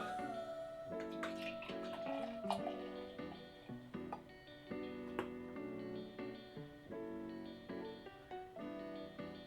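Abita Fluffer Nutter white stout beer poured into a glass, soft glugging and fizzing with small drips and taps, fairly quiet and close, no talking.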